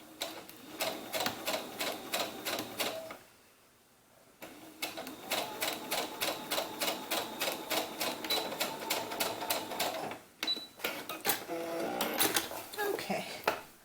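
A sewing machine stitches bias tape onto the edge of a small doll's sunsuit. It runs in rapid, rhythmic bursts of mechanical clatter, stops briefly twice, then resumes close and steady.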